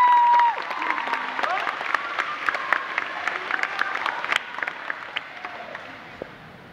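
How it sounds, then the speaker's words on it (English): Audience at a Luther College event breaks into applause after a tone at the start, steady clapping with scattered louder claps and faint voices, tapering off near the end. "Please give him a round of applause."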